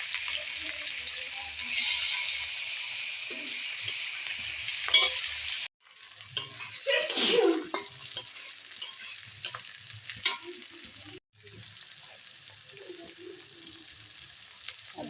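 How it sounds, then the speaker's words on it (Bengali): Garlic and onion frying in hot oil in a pan, a loud close sizzle broken by short gaps and a burst of clatter as more goes in, with stirring scrapes and brief faint voice-like sounds in between. "রসুন পেঁয়াজ দিয়ে দিচ্ছি"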